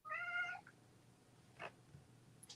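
A house cat gives one clear, drawn-out meow up close indoors, followed by a faint shorter chirp and some quiet rustling in an otherwise calm room.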